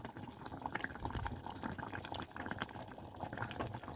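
A pot of sago in water bubbles at a low simmer, soft popping and gurgling continuing steadily throughout, quiet and close, with no talking.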